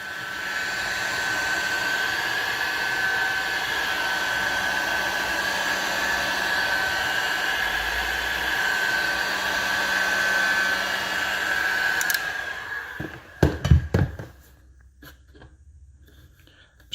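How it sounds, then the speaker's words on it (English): A heat gun blows steadily on panel bond behind the quarter glass of a Fox Body Mustang, a loud continuous whooshing roar with a whine that cuts off near the end, followed by a few clunks and then quiet. "So now we gotta break the heat gun out."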